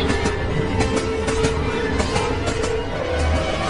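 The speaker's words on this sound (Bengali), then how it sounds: "আর ঠিক সেই মুহূর্তে ট্রেনটা ক্রসিং পার হল" Train passing a railway crossing, used as a sound effect in a Bengali horror audiobook: a continuous mid-level rumble of rolling carriages with faint rhythmic wheel clatter, with no voice heard.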